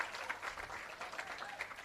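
Applause at an employee service awards ceremony, a steady wash of many hands clapping through the whole moment, fairly even in level with no voices standing out.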